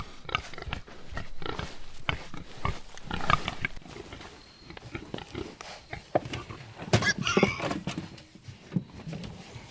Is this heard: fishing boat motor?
no